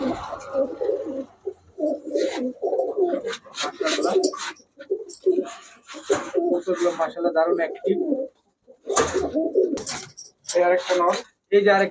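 Male Giribaj pigeons at a pigeon shop coo in low bursts beneath a voice that keeps talking throughout.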